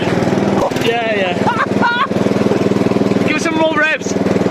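The small engine of the Pub Crawler, a picnic bench vehicle, chugs with a loud, rapid putter. People talk over it throughout.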